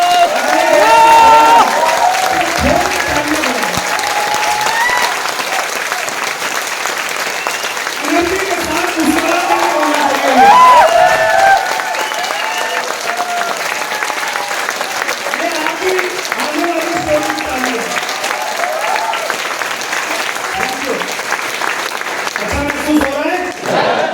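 Audience applause fills a motivational seminar hall, steady clapping with crowd noise running throughout, swelling in bursts, while a voice talks over it.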